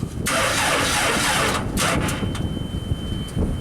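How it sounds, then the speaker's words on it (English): A JLG baby scissor lift's engine cranks over continuously with a steady starter churn and no firing, loud and close, alone without talk. "Let's crank this thing over, see if it fires up"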